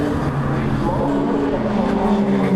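A 750 Formula race car with a Fiat engine roars past at Cadwell Park, a loud, close, continuous engine blare filling the whole moment.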